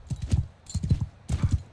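Horses galloping across the battlefield in Mount & Blade 2 Bannerlord, a medieval combat game: three bursts of rapid, heavy hoofbeats thud close by, separated by short gaps, with no talking over them.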